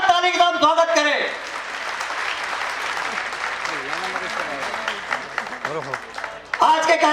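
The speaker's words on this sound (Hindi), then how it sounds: "जोरदार ताली के साथ स्वागत करें।" An audience at a bus stand inauguration event claps steadily to welcome the chief minister, a broad crowd applause running several seconds between stretches of a speaker on a loudspeaker.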